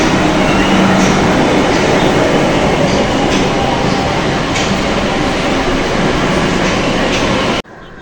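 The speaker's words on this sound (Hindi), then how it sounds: "प्लेटफॉर्म पे आ गया और मेरा ट्रेन भी आ गया" A Kolkata metro train pulls into the platform with a loud, close, continuous rumble and rattle of wheels that fills the space, then cuts off abruptly near the end.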